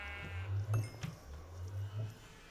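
A Minecraft goat lets out a few short, faint bleats in the game over a soft low background hum.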